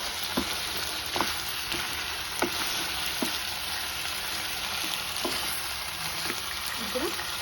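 Pepper chicken frying in a pan, with a steady sizzle throughout and sharp scrapes at regular intervals as it is stirred.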